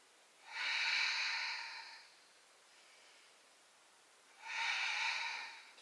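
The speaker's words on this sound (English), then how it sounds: "Breathing deeply." Deep breaths during a yoga backbend: two long, close airy exhalations about four seconds apart, each lasting over a second, with a soft faint inhale between them in an otherwise quiet room.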